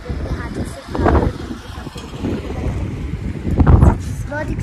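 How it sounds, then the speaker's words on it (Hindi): Strong wind gusts buffet the microphone outdoors at a family home, a loud, continuous roar that swells and eases, with someone speaking through it. "कोई बहुत ज़्यादा हवा चलने लगी है।"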